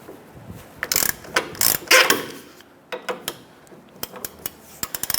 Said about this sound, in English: Using a 17mm socket here, we're going to go ahead and loosen this nut for our lower strut Clevis fork bolt.